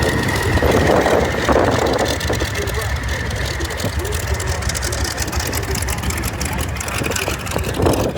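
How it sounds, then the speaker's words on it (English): A Chinook twin-rotor helicopter circles around at a flying demonstration, its heavy engine and rotor roar loud and steady throughout with wind buffeting the microphone. "keep your eye on this beautiful aircraft as he circles around behind"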